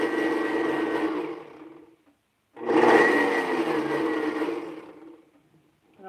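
Electric mixer whirring through waffle batter in two bursts, about two seconds then nearly three, separated by a short pause, loud and close with a steady motor whine and no talking.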